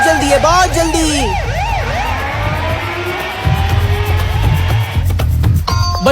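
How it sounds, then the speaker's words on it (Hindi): A cartoon ambulance siren wails in steady rising and falling sweeps, loud and close, over a noisy bed of comic sound effects, ending in a burst of clatter. "एम्बुलेंस भी आ गई"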